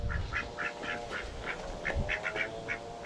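A Peking duck quacks repeatedly nearby in a quick uneven series of nasal calls over a low background rumble on a small backyard poultry farm.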